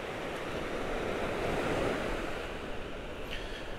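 Ocean waves wash through a bay in Tenerife, a close, continuous roar of surf that swells and eases over a few seconds, with some wind buffeting and no voices.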